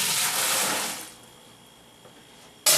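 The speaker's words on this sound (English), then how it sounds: "I am flushing the lines now with" Sanitizer gushes through keg beer lines under high pressure, a loud steady hiss of rushing liquid for about a second that drops to a quiet trickle, then a sudden loud burst of spray at the end.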